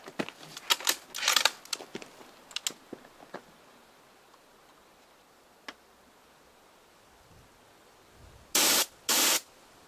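A one-year-expired can of bear spray discharges outdoors in two short, harsh hissing bursts near the end, preceded by scattered faint rustles and ticks against quiet background static.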